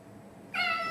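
A cat that has been attacking a woman lets out a single loud, close meow that starts abruptly halfway through and holds steady, with no talking.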